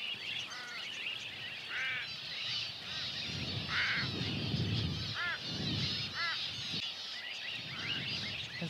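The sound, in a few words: crow cawing while hassling a falcon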